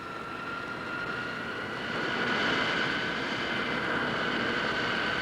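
Avro Arrow jet aircraft taking off on its first flight, a steady broad roar of jet engines with a sustained whine, swelling slightly louder midway and holding, heard from a distance with no talk.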